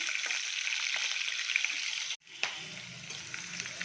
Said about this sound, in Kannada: ಒಂದು ಏಳೆಂಟು ಹಸಿಮೆಣಸಿನ್ಕಾಯಿ ಕಟ್ ಮಾಡ್ಕೊಂಡಿದ್ದೀನಿ ಹಾಕ್ತಾಯಿದ್ದೀನಿ ಇದರೊಳಗಡೆ ಚೆನ್ನಾಗಿ ಫ್ರೈ ಆಗಲಿ ಇದು